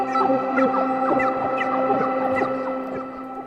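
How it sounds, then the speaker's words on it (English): Synthesized chatter bird and drone bird layers from the Infinite Bird Whistle instrument sound together: a steady humming drone under rapid, repeated chirping whistles that hold even and loud for a few seconds, then fade slightly. "let's say we take the chatter bird and we take the drone bird."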